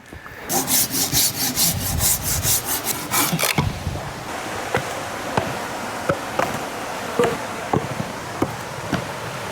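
A folding hand saw cuts through firewood outdoors, a quick run of rhythmic push-pull rasping strokes, then scattered sharp snaps and knocks of wood in a quiet, damp setting.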